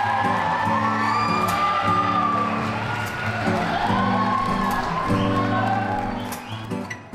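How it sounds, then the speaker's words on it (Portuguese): Crowd whooping, yelling and cheering at a 15th birthday ballroom party as the parents are welcomed, loud and continuous over steady music throughout. "Uma salva de palmas para receber o pai Walter e a mãe"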